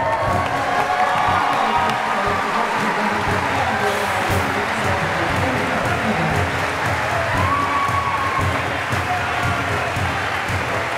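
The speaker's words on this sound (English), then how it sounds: "cheering for the bacteria" A ceremony audience at the Ig Nobel Prize event cheers and applauds during a parade of groups, loud continuous clapping mixed with shouts and whoops that fill the hall throughout.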